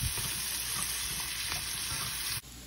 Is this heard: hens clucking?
no